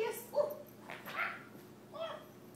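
A puppy lets out a few short, high yips and whimpering barks, moderately close but fairly soft, spaced out over a couple of seconds with quiet between them.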